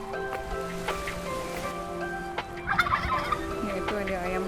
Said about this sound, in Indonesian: Yaitu ada ayam kalkun.